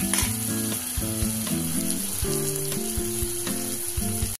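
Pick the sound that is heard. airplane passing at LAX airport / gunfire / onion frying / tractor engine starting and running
onion frying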